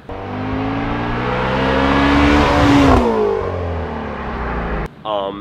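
A Mustang Shelby GT350's exhaust roars as the engine revs up in a long rising pull, then drops off abruptly, with a brief burble after.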